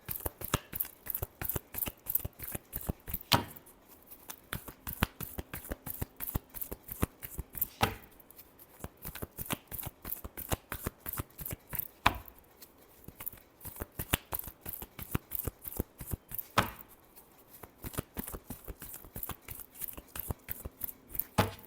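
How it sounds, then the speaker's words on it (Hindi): Tarot cards are shuffled by hand, a close, crisp run of rapid flicking riffles in quick repeated bursts, broken by short pauses between rounds. "Last shuffle."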